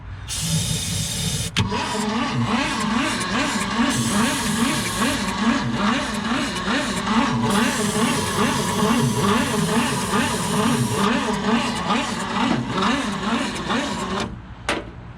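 A 1966 Ford Galaxie from a junkyard cranks on a new battery through badly corroded connections. The starter whirs in a loud, steady, rhythmic churn for about fourteen seconds before cutting off.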